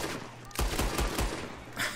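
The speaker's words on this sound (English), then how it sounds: "I shot that guy because he threatened me" A rapid burst of four or five loud gunshots from the Red Dead Redemption 2 video game, closely spaced and punchy, followed by another shot near the end.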